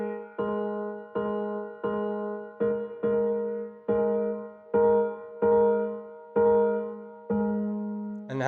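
Granular piano from the Addictive Keys sample library with its sample shift lowered, playing a steady sequence of about ten sustained chords of even length, each one struck and held with a warm, full tone, no voices present.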